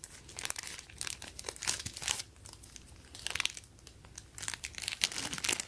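Sealed plastic bag of Supreme stickers torn open and handled, with close, repeated crinkling and crackling bursts of plastic, loud and uneven, no voices.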